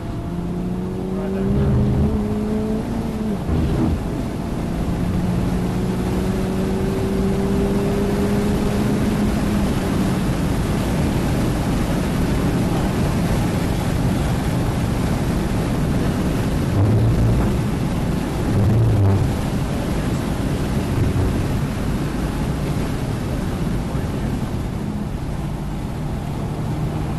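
A DE5 Honda Integra Type S runs at full throttle around Virginia International Raceway, a steady loud engine drone from inside the car with rising revs and shifts, with voices talking over it.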